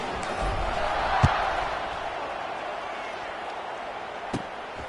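Stadium crowd in the College Football 26 video game roars at kickoff, a steady dense wash of cheering with a couple of sharp thuds and a commentator's voice over it.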